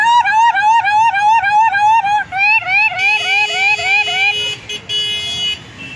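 A voice imitates an ambulance siren on a traffic-filled road, producing a loud, rapidly repeating rising wail that runs for several seconds before a steadier horn-like tone and street noise take over.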